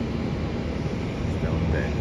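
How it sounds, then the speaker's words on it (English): Airbus A380 airliner flying near Melbourne Airport, a steady broad engine roar that fills the whole short stretch, with voices talking over it. "And that is a Airbus A380 from Ho Chi Minh City."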